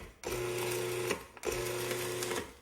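A food processor pulsing graham cracker dough ingredients, gluten-free: two short motor bursts, each a droning whir of a second or so with a brief pause between them, close and fairly loud.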